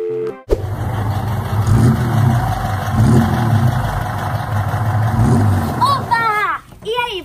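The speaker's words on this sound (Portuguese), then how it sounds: "Você não está vendo o barulho que meu carro está fazendo?" A car engine idles roughly and loudly close by, a steady low rumble with rhythmic sputtering surges, and a voice cuts in briefly near the end.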